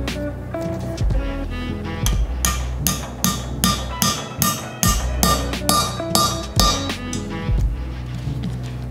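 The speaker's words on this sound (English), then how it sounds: "Now let's go and install the new valve stem seals." New valve stem seals are tapped into place with a 10mm socket on a Volvo 2.5T cylinder head, a steady series of about a dozen sharp, ringing metallic hits, close and loud, evenly spaced roughly every half second.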